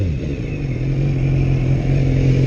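A 2016 BMW S1000R motorcycle exhaust rumbling loud and close, a steady low-pitched throb that swells slightly as the engine holds revs.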